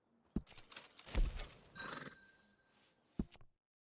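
A horse in Red Dead Redemption 2 gives a loud, shaky whinny lasting about two seconds, bracketed by sharp hoof clip-clops at the start and end, with no talking over it.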